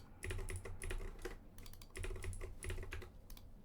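Fingers tap quickly on a computer keyboard while a password is entered, a quiet close clatter of keystrokes in two short bursts with a brief pause between.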